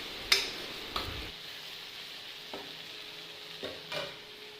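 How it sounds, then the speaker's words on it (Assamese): Okra fry being stirred in a pan during home cooking, with a few soft scraping stir strokes and clinks over a faint, steady sizzle, quiet and close. "আৰু এয়া এইফালে ভেন্দি ভাজিখিনি হ'লেগৈ"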